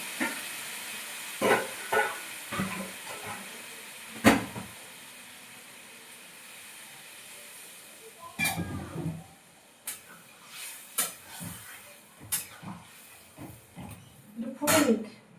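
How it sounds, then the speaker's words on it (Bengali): Water poured into a hot pan of chopped bottle gourd and potatoes hisses and sputters in short bursts, with quiet stretches between them and a voice speaking now and then. "দেখো একটু জল দিয়ে দিলাম।"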